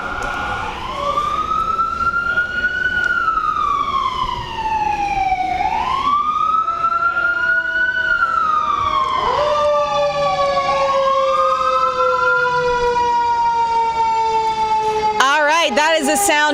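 Fire engine sirens wail loudly at a fire department, rising and falling in long sweeping cycles for the whole stretch, with a short burst of rapid yelping near the end.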